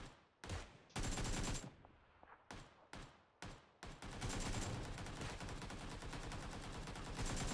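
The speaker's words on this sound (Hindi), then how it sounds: "उसके हिसाब से मैं इसको फायर कर रहा हूँ। तो मेरा काफ़ी ज़्यादा AKM का रिकॉइल कंट्रोल हो रहा है।" An AKM assault rifle firing in the PC game PUBG Lite: several short, loud automatic bursts separated by brief pauses, then one long sustained burst of rapid, evenly spaced shots close up.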